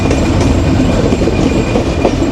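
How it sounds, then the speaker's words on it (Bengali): Madhumati Express train setting off from Rajshahi toward Dhaka, heard from on board as a steady, loud low rumble of rolling wagons with faint clickety-clack, continuous and with no talk. "আমাদের মধুমতি এক্সপ্রেস মানে রাজশাহী থেকে ঢাকার উদ্দেশ্যে রওনা দিচ্ছে"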